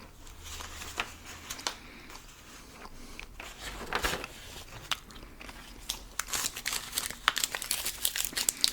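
Close, quiet crinkling of a gum wrapper being opened, followed by soft wet chewing and biting of a fresh piece of gum, with intermittent crackles and small clicks, no speech.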